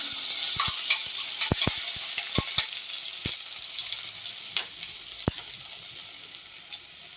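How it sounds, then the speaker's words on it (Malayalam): Mustard seeds crackle and pop in hot coconut oil as ginger fries, a steady close sizzle punctuated by sharp, irregular pops throughout. "കടുക് പൊട്ടുമ്പോൾ കുറച്ച് ഇഞ്ചി ചേർത്ത് കൊടുക്കുന്നുണ്ട്"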